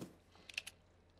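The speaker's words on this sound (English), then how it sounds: "Are we typing?" A few quick, faint keyboard key clicks sound in a short cluster in the video game Stray, over a quiet background.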